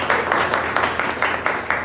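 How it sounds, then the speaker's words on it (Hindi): An audience at a BJP party meeting claps for the party president in a short burst of rhythmic applause, fairly loud and close, with no talking over it. "एक बार ताली अध्यक्ष के लिए"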